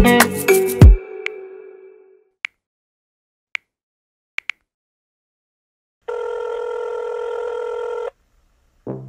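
A telephone rings in a single two-second burst of bright, steady electronic tone, preceded by a few short isolated clicks and a loud thump, with no talking.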